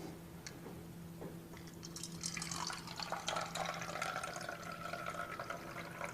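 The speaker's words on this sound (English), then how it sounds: "As we pour this out," Kangen water is poured out, starting with a few drips and then a steady splashing gush that continues close by, with no talking.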